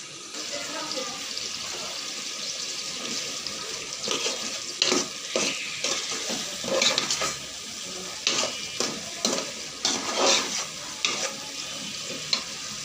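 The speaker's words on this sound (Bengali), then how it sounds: "এখন হচ্ছে আমি মশলাটাকে একটু ভালো করে কষাবো" A ground paste of ginger, cumin and garlic fries in a pan and is stirred, giving a steady soft sizzle broken by scraping strokes from the spoon that grow busier midway through, with no one talking.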